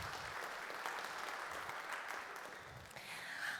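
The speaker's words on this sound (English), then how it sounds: "Let's give them a round of applause." An audience at a creative sector summit in a theater claps in a steady, sustained round of applause, faint and somewhat distant, with no talk over it.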